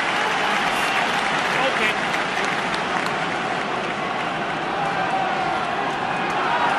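Stadium crowd at a New Zealand versus Ireland rugby union test, roaring and cheering Ireland on in a steady, dense wall of noise that holds loud throughout with no breaks.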